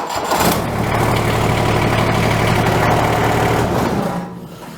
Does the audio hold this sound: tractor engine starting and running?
yes